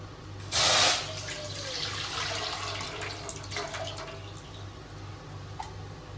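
Rice-washing water splashes out in a brief loud gush, then trickles and drips faintly over a low steady hum.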